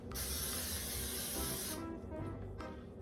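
Cooking spray hissing onto a waffle maker for a crab rangoon chaffle, one long steady close-up spray burst followed by a short second spritz after a pause.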